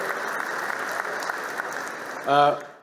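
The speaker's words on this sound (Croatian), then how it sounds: "Molim vas jedan veliki aplauz za naše paneliste" An audience at a tech industry panel discussion claps for the panelists, a brief loud burst of applause that swells near the end over a steady murmur of crowd and hall noise.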